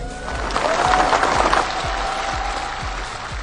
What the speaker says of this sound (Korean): 여러분 박수로 한번 격려해 주시기 바랍니다